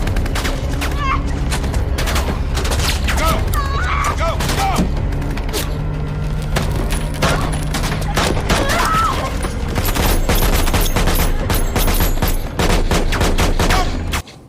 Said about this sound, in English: Pull your gun out and shoot. Yes. Shoot the bomb.